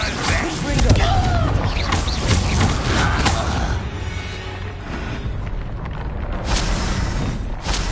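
Confringo fire spell cast in the video game Hogwarts Legacy, loud booming blasts with crackling debris, strongest early on and then settling into rumbling game effects.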